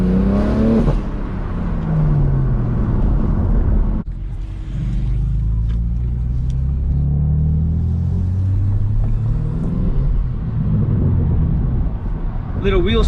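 A 2021 BMW M3 with a manual gearbox launches under launch control with a little wheel spin: a loud engine roar surges and climbs through the revs as the car pulls away, with someone talking over it at times.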